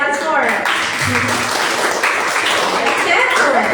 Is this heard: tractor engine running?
no